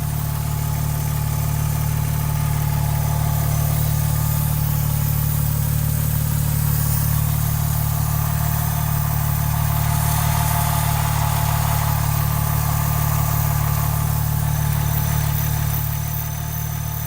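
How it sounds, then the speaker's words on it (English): Rear-mounted engine of a 2001 Porsche 911 Turbo idling steadily, a loud, even low rumble with faint clatter on top, recorded up close and unchanging throughout with no talking. "You can probably hear the engine idling in the background."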